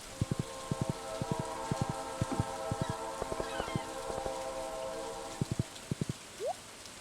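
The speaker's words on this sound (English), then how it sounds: "It is a train." A train passing in the modded Stardew Valley video game, with rhythmic clacks in pairs and a sustained whistle-like chord, fairly quiet over a soft rain-like background hiss.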